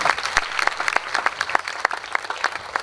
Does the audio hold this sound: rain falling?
no